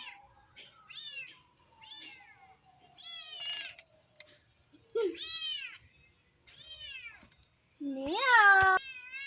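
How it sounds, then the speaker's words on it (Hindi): A kitten gives a string of repeated high mewing calls, clear and fairly close, ending in a louder, rising cry. A low hum runs underneath, and no one speaks. "ऐ बिल्ली का बच्चा बड़ी बिल्ली का बच्चा"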